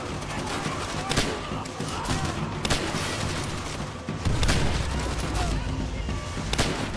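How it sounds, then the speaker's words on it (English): Grenade explosions and gunfire fill a Call of Duty Veteran-difficulty campaign battle, with several heavy booms over dense, continuous rattling fire, loud and close throughout. "Oh no, the grenades have started."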